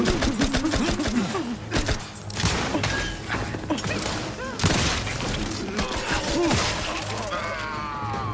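A heavy gunfire volley in The Outer Worlds 2, with loud cracking bursts, shattering impacts and booming thuds stacked densely over a droning game soundtrack.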